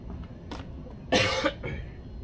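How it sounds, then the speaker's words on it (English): A single harsh cough bursts out, followed by a softer second cough, close and fairly loud against a quiet room. "you guys hear me coughing"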